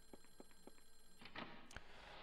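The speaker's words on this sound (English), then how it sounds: "Listen, phone, I hear you going off." Telephone ringing in the video game Clock Tower: The First Fear, a few quiet repeated electronic ring pulses followed by a couple of sharper tones over faint background hiss.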